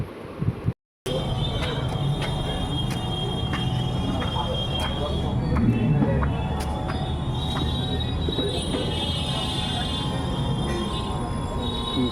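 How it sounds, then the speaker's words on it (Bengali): A local train pulls into a station platform, its steady rumble and squealing wheels filling the scene, with voices talking over the continuous rail noise. "আর এই ট্রেনটা ঠিক ঢুকে গেল"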